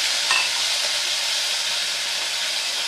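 A small splash of water goes into a frying potato and eggplant curry, giving a dense, continuous hiss and sizzle close by with no talking.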